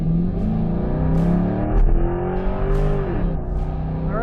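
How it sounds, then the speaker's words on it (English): A 2004 Corvette coupe kicks down into first gear and accelerates, its engine note climbing steadily in pitch and holding loud and close for several seconds. "I'll kick down into first."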